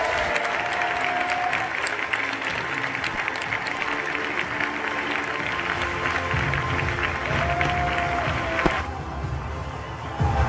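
A political rally crowd applauds Thierry Mariani with sustained, dense clapping and some cheering. It stays loud and continuous before dropping off near the end.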